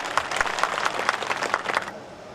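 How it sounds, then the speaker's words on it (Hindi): Brief burst of clapping from a crowd at a nomination rally in Bidasar, several sharp claps close together over a few seconds that stop abruptly. "उनके लिए एक जोरदार ताली बजाए।"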